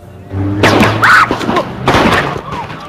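Several booming gunshots ring out during a protest in Ferguson, with loud thuds spread across a few seconds amid shouting voices and crowd commotion.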